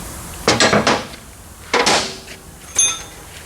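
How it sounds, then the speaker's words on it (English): Three sharp metallic strikes on a metal cylinder during a pressure washer pump teardown, hammer blows spaced about a second apart, loud and close with ringing decay. "Trying to hit on the strongest part of the cylinder so I don't damage it."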